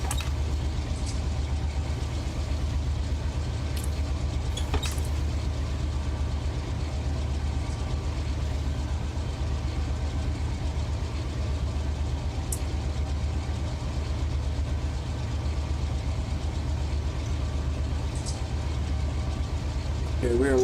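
Locomotive heard from inside the cab while running at 43 mph, a steady low engine drone with a rhythmic rumble that lasts throughout, with occasional faint clicks and a voice speaking over it.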